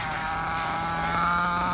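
Nitro engine of a Kyosho MP9 RC buggy with a Reds Elliott Boots engine, running at a high, steady buzzing pitch that rises slightly toward the end, loud and close.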